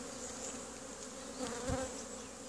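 Honey bees drone in a soft, continuous buzz around a strong beehive, steady and moderately distant, with no voices.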